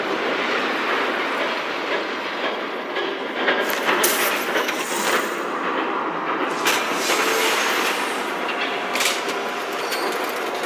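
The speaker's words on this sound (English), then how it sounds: "There's a train coming." A train approaches in the Batman Telltale Series video game, a steady loud rumble with rattling, clattering wheel noise that holds throughout, no talk over it.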